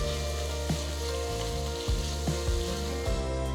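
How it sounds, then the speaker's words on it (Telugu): Green chilies and green peas fry in a pan for coconut milk rice, with a continuous close sizzle and several brief stirring scrapes and no talking. "మూడు పచ్చిమిరపకాయలు పావు కప్పు పచ్చి బఠానీలు వేసి కలపాలి"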